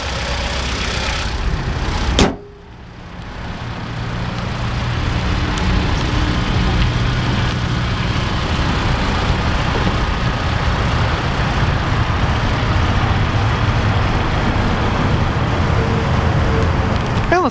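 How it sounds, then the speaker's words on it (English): A 2011 Mitsubishi Outlander Sport SE AWD with an inline four-cylinder engine catches after a brief thump. It then idles in a smooth, steady, low hum that stays close and constant throughout. "Let's get a quick taste of that little inline 4-cylinder engine and see what kind of soundtrack it produces."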